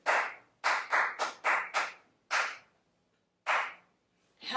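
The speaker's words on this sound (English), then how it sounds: "Now clap it." Sharp hand claps beaten out as a rhythm in a grade 1 aural exercise, close and dry, in an uneven pattern of about nine claps with gaps between groups, and no talking.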